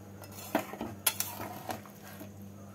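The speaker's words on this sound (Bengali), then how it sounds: "ঝোলের সাথে একটু নাড়াচাড়া করে দিচ্ছি।" A spoon stirs fried cauliflower, eggs and potatoes into curry in a pot, giving a few clinks and scrapes of utensil against metal over a low background hum.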